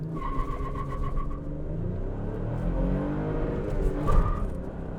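A 2021 Toyota Tacoma pickup with a 6-speed manual transmission accelerating hard from a standstill toward 60, its engine rising loudly and steadily with a brief dip around a gear shift, close and without talk.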